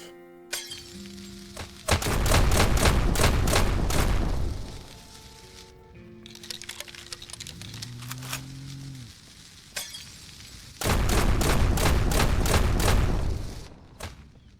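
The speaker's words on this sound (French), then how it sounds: "Et cette fois-ci, j'ai le fusil à pompe." Loud shotgun blasts in the zombie survival game SurrounDead come in two long bursts of rapid booming reports, separated by quieter in-game sounds with tonal effects, no talk over them.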